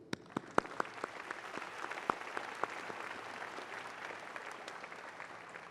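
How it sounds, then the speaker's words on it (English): A conference audience at the iHEA opening plenary gives a brief, fairly quiet round of applause, scattered sharp claps standing out at first before the clapping thins into a soft, even patter. "Please give a brief round of applause for this core group"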